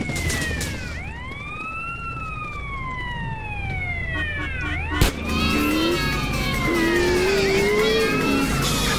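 A police car siren in GTA San Andreas wails in rising and falling sweeps, several overlapping, with a sharp thump midway and a steady engine drone underneath.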